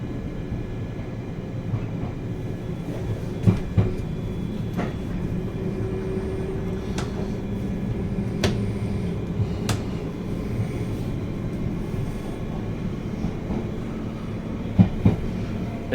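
A London Underground Piccadilly line night tube train runs between Heathrow Terminal 4 and Cockfosters, giving a steady low rumble and hum with occasional sharp clicks and clanks of wheels over track joints.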